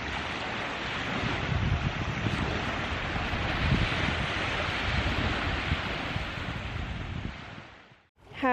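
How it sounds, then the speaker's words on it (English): Lake Tahoe waves wash against the shore at Sugar Pine Point, a steady, close, broad rush of water mixed with wind buffeting the mic, cutting off abruptly at the end. "he's really enjoying playing with the waves"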